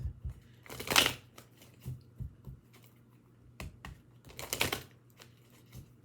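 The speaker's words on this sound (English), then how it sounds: "so let me shuffle these cards up good" Playing cards are shuffled close by in bursts of rapid riffling and light tapping, quiet between the louder flurries.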